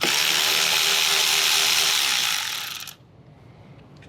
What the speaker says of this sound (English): we're going to grab a 12mm and take the nut off